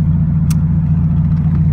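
A Mazda Miata engine idles through a loud 2.5-inch straight pipe exhaust, giving a steady, heavy, close-up rumble with no break over the short stretch and no other sound on top.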